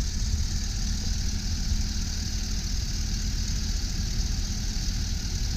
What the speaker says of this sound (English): Engine, very clean, running smooth, there's no roughness.